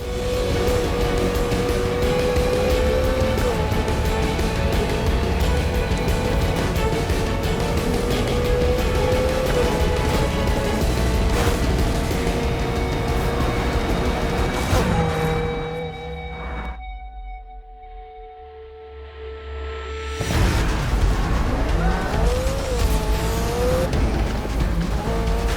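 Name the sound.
race car engines and passing cars in Need for Speed Heat video game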